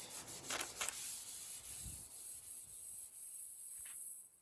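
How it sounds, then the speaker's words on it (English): A red Scotch-Brite pad lightly scuffs the paint on a Dodge, giving soft, faint, repeated rubbing strokes with no talking. "I'm gonna red Scotch Brite, give this a light scuff"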